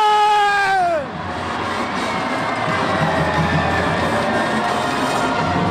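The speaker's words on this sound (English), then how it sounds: "the crowd goes wild" A high school pep rally crowd at Dacula High roars after a trophy presentation, starting with a brief falling whistle-like tone, then a steady, loud wash of cheering and screaming voices.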